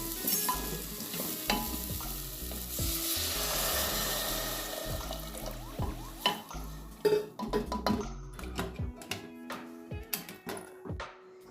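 Mixed vegetables for pav bhaji frying in a pan, a strong steady sizzle early on giving way to repeated stirring scrapes and knocks of a spoon against the pan, close and fairly loud.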